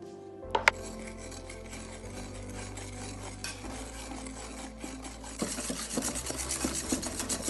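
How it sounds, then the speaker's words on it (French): A utensil stirs cake batter with melted butter in circles, giving soft, continuous scraping and rubbing strokes with a sharp clink near the start and faster, busier stirring toward the end, close and fairly quiet. "Et mélangez en cercle pour éviter de faire des grumeaux."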